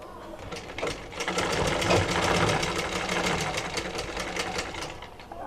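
A sewing machine runs steadily stitching a blouse seam, a close, continuous rapid mechanical whir with fast regular needle strikes throughout, no voices over it.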